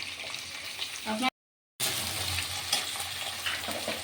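Onion frying in a pan as the base for a local chicken curry, a steady close sizzle broken by a short silent gap before resuming with light stirring scrapes.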